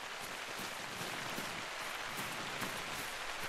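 Steady, dense rain hiss in a hunting video game fills the clip, an even wash of patter with no pauses and no voices.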